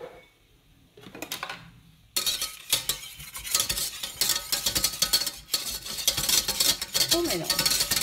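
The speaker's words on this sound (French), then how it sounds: "que je vais mélanger avec le fouet" A whisk stirs a sauce for moussaka in a bowl, seasoned with salt before milk goes in, giving continuous scraping, clinking strokes that start quiet and turn steady and busy after a couple of seconds, with no talk.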